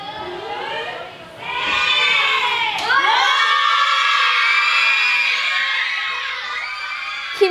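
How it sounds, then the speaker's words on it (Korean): A group of children cheers and shouts as they enter a renovated library: high, excited voices and whoops rise together, build into a loud sustained chorus, and stay close and lively to the end. "힘찬 환호성과 함께 안으로 들어선 아이들"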